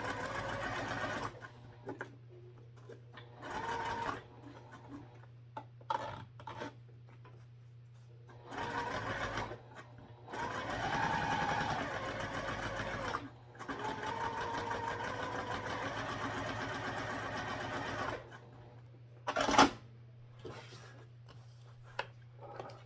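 A sewing machine runs a quarter-inch seam in several separate bursts of rapid stitching, each a few seconds long, with quiet pauses between them and the motor close and clear.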